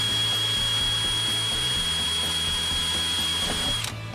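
A battery power drill whines loudly and continuously as it bores a hole through metal on an old classic camper van, the motor steady and close before easing off at the very end.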